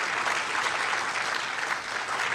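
An audience applauds a master of ceremonies at a cricket club event, giving a dense, even wash of clapping that holds steady from start to finish with no voices above it.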